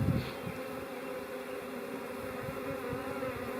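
A honeybee swarm hums in a steady, dense drone close by, with the colony fanning and waggle dancing on a cluster while someone tries to catch it; the buzzing holds even and continuous throughout, with no voices.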